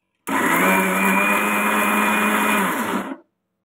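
A mixer grinder blending cream whirs loudly and steadily for about three seconds, starting abruptly and winding down at the end, with no talking.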